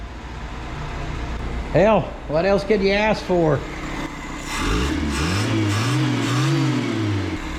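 A 1984 Toyota dually truck with an upgraded carburetor idles close by, a steady low engine rumble running under a man's speech, then a louder stretch where the engine note swells and wavers.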